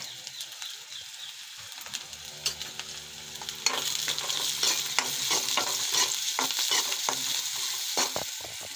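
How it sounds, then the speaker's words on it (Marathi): Poha ingredients, including cabbage, are stirred and fried in a pan. A steady sizzle grows louder partway through, with spoon scrapes against the pan recurring close by and no voices. "सगळे छान मिक्स करून घेऊ। हलकं शिजवून घेऊ।"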